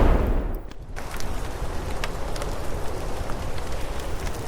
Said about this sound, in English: A battle in the nighttime rain of a rooftop.